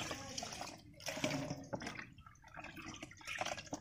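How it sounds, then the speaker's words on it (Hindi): Mahua flowers being washed by hand in water, with splashing, dripping and sloshing that come in irregular bursts, close and moderately loud, with no talking. "महुआ को हम पहले धुल करके साफ कर लेते हैं।"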